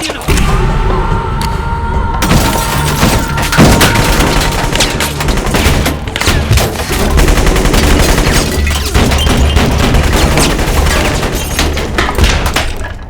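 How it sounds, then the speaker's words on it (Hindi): Dense, continuous gunfire from small handguns rips through a cramped house in a Bad Boys II action scene: rapid overlapping shots, thuds and booms, loud and close, with no pauses for the full stretch. "साले कुत्ते इस छोटे से घर में छोटी छोटी बंदूकें लेकर गोलियां चला रहे हैं।"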